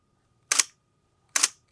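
A Sony A7III mirrorless camera fires its newly replaced shutter twice, each a crisp, close mechanical snap about a second apart, with silence around them.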